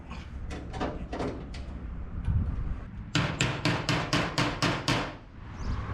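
A bent hinge on a 1963 IH Loadstar truck being struck with locking pliers: a few scattered knocks, then a fast run of about eight sharp metallic blows, close and loud with no talking.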